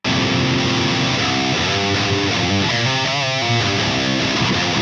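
Heavily distorted electric guitar amp pushed by an MLC Brown Sugar boost pedal, a loud, continuous, saturated riff with thick low mids played alone.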